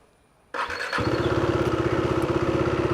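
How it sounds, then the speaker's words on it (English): After a moment of quiet, an older KTM Duke 390 motorcycle engine cranks and fires up, then settles into a loud, rapid, thumping idle close by. "coming to the exhaust note of this bike, let's start this thing up"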